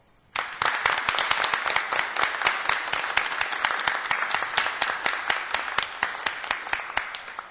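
A crowd claps in a city council chamber to welcome the junior councillors and their alternates. The applause starts suddenly, stays loud and dense with many sharp individual claps, and carries on steadily without talk.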